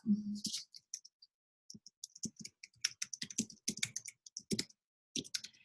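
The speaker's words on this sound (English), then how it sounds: "And I'll type that in the chat." Keys clatter on a computer keyboard in a quick, uneven run of close clicks and taps, with brief pauses between bursts and no talking.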